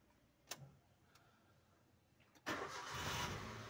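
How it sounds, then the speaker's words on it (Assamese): A used Maruti Wagon R is started: a couple of faint clicks and ticks, then the engine catches suddenly and settles into a loud, steady idle that runs on to the end. "এয়া ষ্টাৰ্ট হৈ গ'ল গাড়ী"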